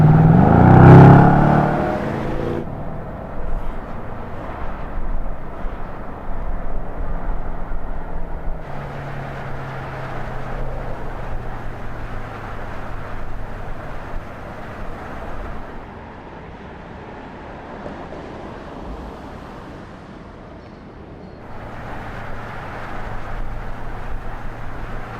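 Mercedes-AMG S63 coupe on the road: an engine rev at the start, then a steady cruising drone with road and wind noise, easing and rising again, no talking.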